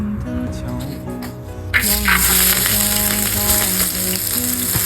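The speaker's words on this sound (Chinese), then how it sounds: "锅里面倒点红麻油。" Red sesame oil poured into a hot wok in a home kitchen, sizzling sharply after a quieter stretch of low hum and clinks, then a loud steady crackle to the end.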